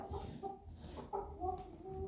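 Young chicks cluck and peep softly nearby in a brooder, a few short calls scattered over a low background hum.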